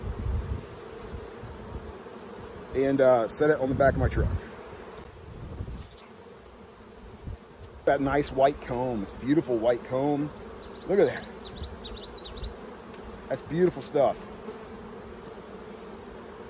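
Honey bees buzzing around a honey super pulled from a hive, a continuous soft hum under someone talking in bursts, with occasional closer buzzing passes.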